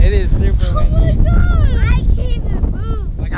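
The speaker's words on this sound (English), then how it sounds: "it's super windy, bro. It is super windy." Strong hurricane wind buffets the microphone with a heavy low rumble while someone talks loudly and excitedly over it.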